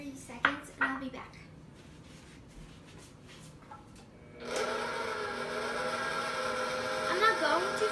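An electric hand mixer starts up after some clatter and a brief voice, then runs steadily at moderate speed, whirring through powdered sugar for a tiramisu roll filling, with the tone shifting slightly as the beaters move.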